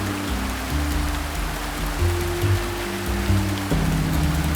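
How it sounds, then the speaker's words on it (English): Steady, monotonous rain falls outdoors without pause, a dense hiss of drops on surfaces with a low rumble beneath, close and continuous, with no voices. "there's nothing I can do in this incessant rain."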